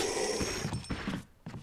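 Short mechanical clanking and ratcheting of a mechanism turning by itself in the Resident Evil HD video game, a few rough metallic knocks over under two seconds.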